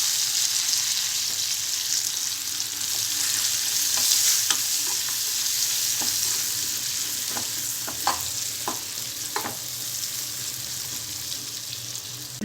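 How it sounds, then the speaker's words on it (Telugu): Curry leaves and onion pieces frying in a pan of oil for a masala egg curry: a steady loud sizzle, with scattered pops and crackles and occasional stirring scrapes close by, no talk. "కరివేపాకు, ఉల్లిపాయ ముక్కలు వేసుకోవాలి."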